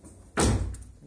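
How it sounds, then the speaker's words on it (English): A Mazda car door shuts with a single solid, loud thunk that decays quickly, recorded up close with no talking. "you close the door."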